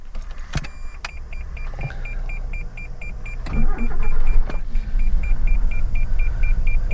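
Interior of a 1987 Ford Telstar TX5 Turbo that sat unused for five years: clicks and a cranking start give way to a rumbling idle while a rapid, regular warning beep repeats over it.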